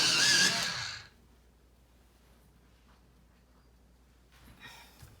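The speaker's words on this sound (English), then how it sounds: "And now another quick sharpen." A colored pencil gets a quick sharpen in a short, loud burst of whirring grind at the start, then the clip falls quiet apart from a faint rustle near the end.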